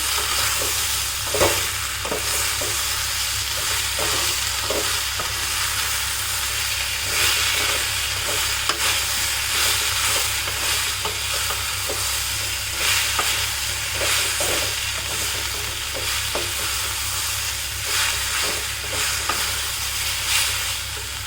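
Drumsticks stirred and fried in a pan for a Tamil Nadu style poriyal: a steady, loud sizzle with a constant hiss, broken by scraping stir strokes throughout, with no talking.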